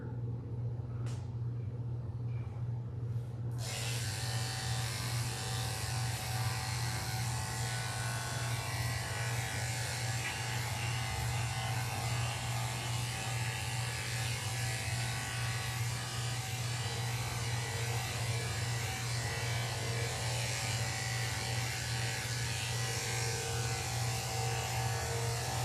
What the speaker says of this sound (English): I'll shave her back and I'll blend it into her skirt.